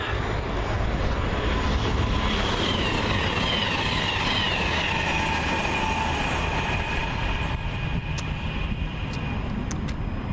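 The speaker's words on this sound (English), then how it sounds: "That's a Voyager coming." Voyager passenger train approaching and passing on a Midlands line, a loud continuous roar of wheels and engine noise with a rising then falling whine, near and unbroken.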